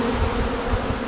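Honeybees droning around their hives on a North Carolina farm, a steady low buzz that fills the clip with slight swells, close and fairly loud, with no voices.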